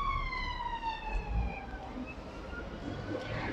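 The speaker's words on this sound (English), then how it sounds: "It's an ambulance." A wailing ambulance siren on a street in Coventry, UK, its repeated sweeping tones sliding downward as it passes at a moderate distance over faint traffic.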